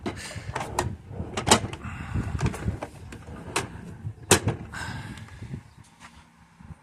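Plastic dividers in a storage organizer drawer snap and click into place, a series of sharp separate clicks and knocks spread unevenly, close and fairly loud, with a faint hum near the end.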